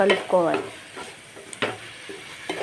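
Coriander chutney mixture is stirred in a pan, with a spoon scraping in short strokes over a soft sizzle; a voice is briefly heard at the start.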